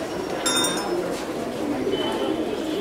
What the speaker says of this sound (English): People come here and they feed the pigeons?